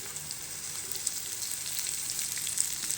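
Long thin strips of chopped cabbage stir-fry over a high flame for vegetable noodles, giving a steady bright sizzle with a few small pops and no talking.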